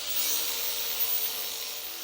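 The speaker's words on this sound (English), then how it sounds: "I'll bust that electric grinder back out and use it to flatten down the strips against the hood." An electric grinder works metal strips flat against a car hood on a Pro Street Dodge Dart, producing a steady, bright, abrasive hiss that stays loud and even throughout with no talking.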